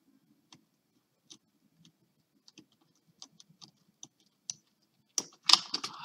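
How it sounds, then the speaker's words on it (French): Scissors trimming paper overhang on a scrapbook album page, with sparse soft snips and ticks spaced out, then a louder cluster of cutting and rustling at the end, close and quiet with no talking. "Je vais venir découper à ras ce qui dépasse."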